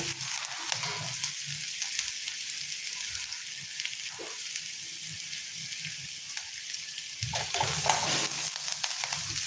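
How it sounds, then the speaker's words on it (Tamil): Onions sautéing in a pan for a potato peas curry, with a steady loud sizzle and frying hiss throughout, occasional scraping stirs, and no voices. "வெங்காயம் நல்லா வதங்கிடுச்சு"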